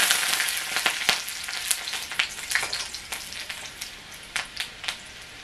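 Chopped chillies, garlic and ginger fry in two spoons of oil over medium heat, a close hissing sizzle broken by frequent crisp pops and crackles that thin out slightly toward the end.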